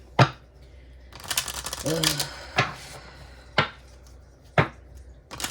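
A Lenormand card deck being shuffled, with sharp card slaps and riffling bursts recurring at roughly one-second intervals, close and crisp, with a brief voiced sound in the middle.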